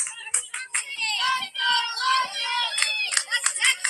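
A crowd at a game yelling in protest at a close call, many voices shouting and hollering together loudly, with bursts of clapping and sharp cries mixed in.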